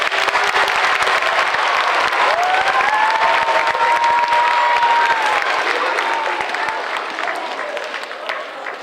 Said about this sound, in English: So I would like to have you all give her a big round of applause.